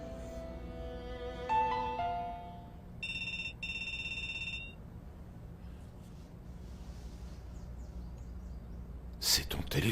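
A mobile phone rings in a quiet room, playing a short melodic electronic tune and then a bright, repeated pulsing tone, clear and fairly close.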